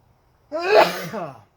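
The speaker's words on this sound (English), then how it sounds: "I'm about to sneeze." A single close, forceful sneeze with a sharp inhaled build-up and a loud burst, then quiet.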